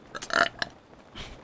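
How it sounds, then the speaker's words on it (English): A loud, close burp rises and fades over about half a second, with a shorter burst right after and a softer rumbling belch near the end. No one speaks. "I burped a lot more than I thought I would."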